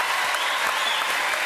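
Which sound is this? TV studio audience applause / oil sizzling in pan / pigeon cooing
TV studio audience applause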